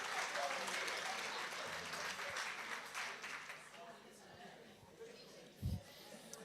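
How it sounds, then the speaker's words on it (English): Standing ovation after a presentation at a workplace nutrition summit: sustained room applause with crowd chatter mixed in, fairly faint and gradually thinning, a voice audible toward the end. "Please, standing ovation is very well deserved."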